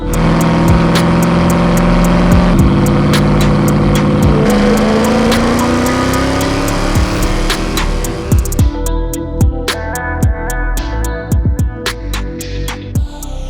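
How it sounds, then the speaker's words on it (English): A supercharged 5.4-liter 1999 Ford Lightning pickup's loud exhaust rumbles and revs up continuously, then drops into choppy, popping bursts as the throttle eases off. "if you want a loud exhaust system and you want to hear this truck coming"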